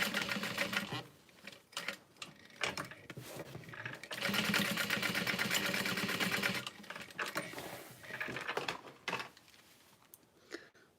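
A sewing machine stitches a fabric bag in fast bursts of rapid mechanical whirring, separated by short pauses and small handling clicks, close and clear.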